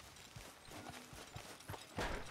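Horse hooves clip-clop at a steady walking rhythm in the Red Dead Redemption 2 video game, a run of close, fairly loud thuds ending in a heavier hit, with no talk over them.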